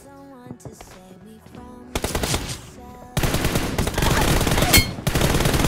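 Gunfire in a TDM shooter video game: a few scattered shots at first, then dense automatic bursts that grow louder and become continuous, with rapid rattling fire near the end.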